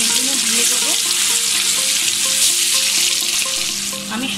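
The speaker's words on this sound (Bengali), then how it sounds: "আমি এইখানে কড়াতে এক কাপ তেল দিয়ে গরম করেছি। এবার আমি পনিরগুলো দেব।" Salt-soaked, drained paneer cubes fry in a cup of hot oil in a wok with a loud, continuous crackling sizzle, joined by light stirring clinks that ease slightly near the end.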